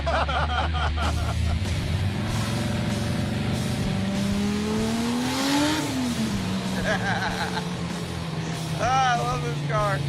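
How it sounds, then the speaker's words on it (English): A Dodge Charger V8 revving loudly, its deep engine note climbing and then falling back to a steady rumble, with people talking over it throughout. "We have that V8 rumble that the 2JZ doesn't have."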